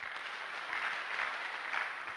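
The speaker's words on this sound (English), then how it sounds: "So we should clap for this spirit." Audience applause at a public lecture, a steady wash of many hands clapping at a moderate distance, fairly even throughout with slight swells, no voices over it.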